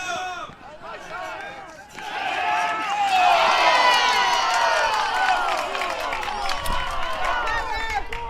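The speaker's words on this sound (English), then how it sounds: "A lot of people in the crowd disagree with the call there" A crowd at a varsity high school baseball game reacts loudly to a disputed umpire call, a swelling mass of shouting and jeering voices that peaks and then slowly tapers off.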